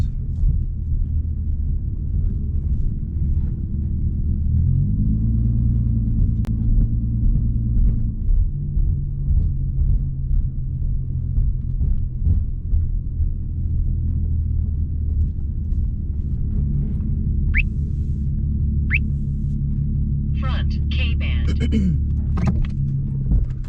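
A blacked-out Ford Mustang rumbles steadily from inside the cabin on a late-night drive, with a deep, continuous engine drone, a brief rise in revs, and some sharp clicks near the end.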